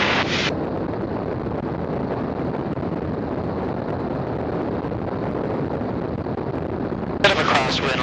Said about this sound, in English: Bit of a crosswind, a little bit of wind from the south.